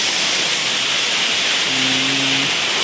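The Beerigan waterfall roars as a steady, loud, broadband hiss of falling water, near and unbroken, with a faint brief tonal whine partway through.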